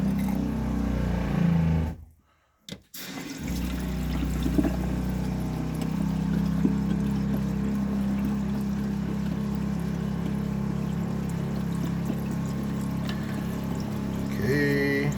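Prestone RV antifreeze pouring steadily from a bathroom faucet during winterizing of an RV, a continuous close liquid flow with a brief gap near the start, then unbroken running until the end.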